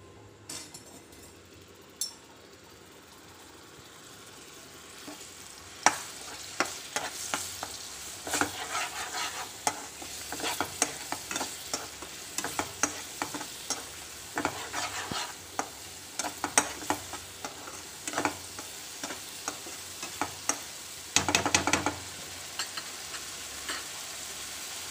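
Ground garlic and onion paste with dried chillies frying in a pan: after a quiet start, a sizzle rises with frequent sharp stirring clinks and scrapes of a spoon, close and unaccompanied by talk.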